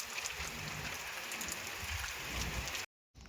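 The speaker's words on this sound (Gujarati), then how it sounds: "બાકી આવો કંઈક વરસાદ છે" Steady rain falls with the wind during a monsoon shower on a village road near Wankaner in Gujarat, a continuous even hiss that cuts out abruptly near the end.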